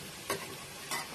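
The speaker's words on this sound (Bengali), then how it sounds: "আগেরগুলোর মতো একইভাবে ভেজে নিব, হালকা করে উল্টিয়ে পাল্টে এপিট ওপিট করে।" Chicken roast pieces frying in hot oil give off a faint, steady sizzle, broken by two brief, brighter scraping bursts as the pieces are stirred and turned.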